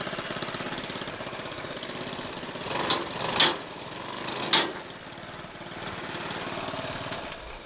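A homemade reverse trike's engine runs with a steady, chugging idle that rises in two brief revs before settling back down, fairly close and with no talking.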